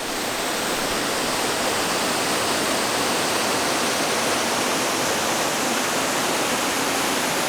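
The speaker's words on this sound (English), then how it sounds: "right at the start you get an awesome view of a nice little waterfall." A small waterfall near the start of the Table Rock Summit Trail in South Carolina rushes in a steady, dense roar, continuous and unbroken, with no voices over it.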